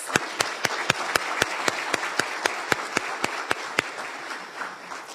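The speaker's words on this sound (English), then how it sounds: "I ask everyone to give you a round of applause" About fifteen single hand claps at a business luncheon ring out in a slow, even rhythm, each sharp and distinct, with a soft room murmur between them and no voices.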